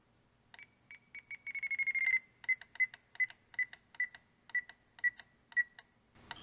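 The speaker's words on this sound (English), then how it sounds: "you can be notified by an audible alarm when they do become centered" A radio-control transmitter sounds its audible trim-centering alarm: a quick run of short electronic beeps that speed up into a brief held tone, followed by a regular series of clear single beeps, all close and alone.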